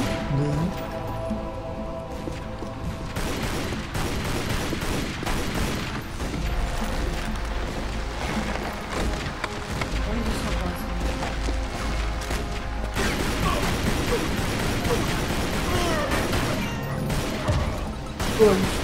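Rapid gunfire crackles nonstop, punctuated by deep booming explosions, forming a dense and chaotic battle din throughout, during a boss fight in the video game Tomb Raider: Legend.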